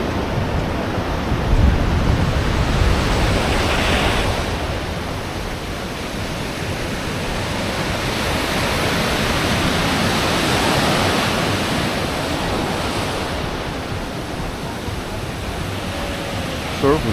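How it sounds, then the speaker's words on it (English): Ocean surf on the beach at Sayulita, a steady broadband wash of breaking waves that swells and recedes, loud and close throughout with some wind rumble on the microphone. "Surf is actually bigger up here."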